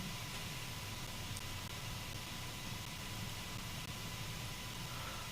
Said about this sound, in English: So they changed the white noise ambient sound